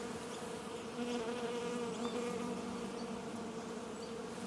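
Wasps buzzing steadily and close, a dense insect drone with a low hum that holds without pause, fairly loud and with no speech over it.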